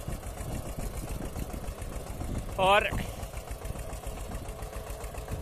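Eicher tractor engine drones steadily while pulling a stone roller across a field after sugarcane sowing, a continuous mid-pitched rumble with a brief louder burst midway as someone talks over it.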